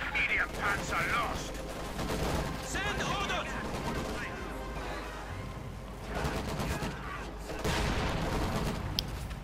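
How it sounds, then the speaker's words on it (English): Heavy gunfire and explosions from a Company of Heroes 2 tank battle, with a Sherman firing on German armour amid infantry and machine guns, a dense continuous roar of shots and booms under commentary. "Because they're taking fire from the Sherman."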